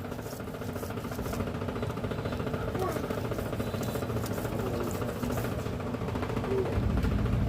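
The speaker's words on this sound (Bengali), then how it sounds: "এখন আমি আলুগুলো আর কাঁচামরিচগুলো বেটে নিব" Small potatoes and green chilies being ground on a flat grinding stone, a steady, rough, close scraping and pounding that continues without pause throughout.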